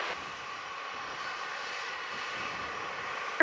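A Delta airliner's jet engines roar steadily during takeoff from runway 07 at Montego Bay, Jamaica, a broad, even rumble heard from a distance.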